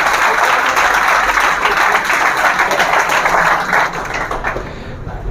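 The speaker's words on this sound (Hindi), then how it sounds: "भाई, ताली बजा दो भाई के लिए।" A classroom of students applauds a classmate, with dense, steady clapping that holds for several seconds and then thins out near the end.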